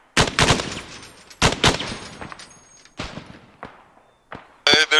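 Gunfire in the Half-Life: Badlands video game, with several loud bursts of shots spaced a second or so apart, then a sharper burst near the end.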